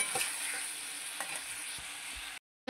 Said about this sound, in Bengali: আমি একটু ভালো করে কষিয়ে নিই